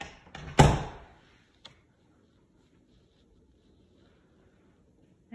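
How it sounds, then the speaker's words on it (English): A door in a house swings shut with a solid thud, then a short latch click, followed by near silence and faint room tone. "Let me shut this door."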